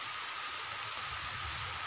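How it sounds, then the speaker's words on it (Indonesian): Steady rain falls outdoors at a fishing spot, a dense even hiss of drops on surfaces that runs unbroken and fairly loud throughout, with no voices. "Aduh, hujan lagi teman-teman."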